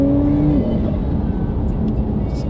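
A Porsche 992 Turbo with 450 horsepower pulls hard, its engine note climbing then easing into a loud, broad roar inside the car, with no voices heard.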